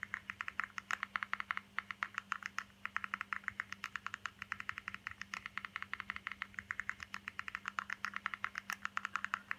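Quiet typing on a computer keyboard: a fast, steady stream of light key clicks with brief pauses, over a faint constant hum.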